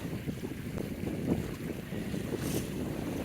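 A sailboat under sail moves through open water, with steady wind buffeting the microphone and soft wash of waves against the hull, no voices.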